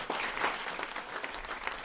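An audience at a regenerative agriculture celebration event claps in a sustained burst of applause, dense overlapping hand claps close by with faint voices mixed in.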